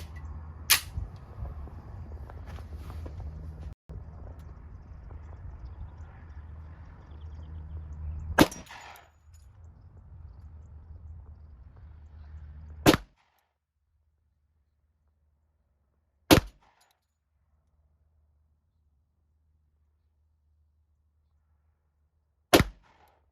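Five sharp, loud pistol shots from an Alpha Foxtrot 10mm 1911 firing Federal 180-grain flat-point ammunition, spaced several seconds apart, the first ones over a low background rumble and the later ones in near silence.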